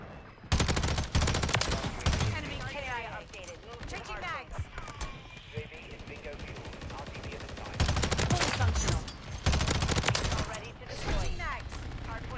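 Rapid bursts of automatic rifle fire from a BAL-27 in a Call of Duty: Modern Warfare III multiplayer match, loud volleys in two main clusters mixed with game effects while a player talks over it.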